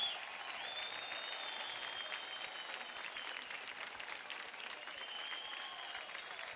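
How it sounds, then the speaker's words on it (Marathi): Sustained applause from a television dance-show studio audience, an even, moderately distant clapping roar lasting several seconds with faint tonal sounds above it. "जोरदार टाळ्या Grandmaster साठी"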